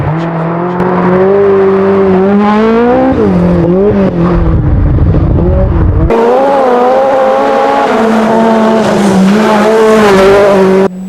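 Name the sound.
Group B rally car T16 with mid engine and turbo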